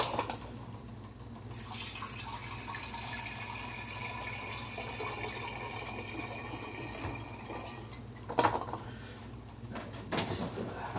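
Water pours steadily into a mead mixture of honey and water, a continuous splashing fill from a tap-like stream that carries through most of the clip before tapering, with a few clunks near the end.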